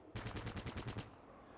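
Enemy gunfire in a Fallout game: one rapid burst of about eight evenly spaced shots, loud and close, ending abruptly into quiet.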